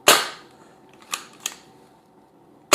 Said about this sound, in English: Just blow the first couple of shots off.